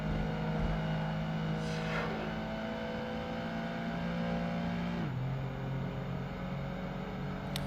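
A Mitsubishi 3000 GT engine in the racing game Project Gotham Racing 2 drones steadily at a sustained rev, with pitch shifts as gears change, heard alone without talk.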